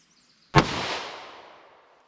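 A single sharp report from an Underwood heavy .38 Special round fired from a snub-nose revolver, close and loud, its echo trailing off over about a second and a half in otherwise quiet surroundings.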